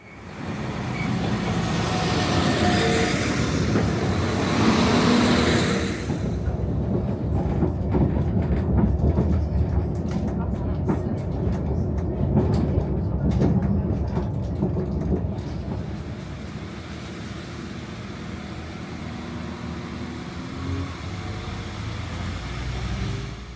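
Northern passenger train ride toward Manchester Piccadilly, a steady low rumble and roar of the carriage in motion with rattling and hiss, slightly louder early on, then settling into continuous running noise with no talking.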